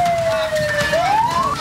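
Ambulance siren wailing on a road blockaded by trucks near a port, its rising and falling tone sounding loud and close over street noise, with a voice talking underneath.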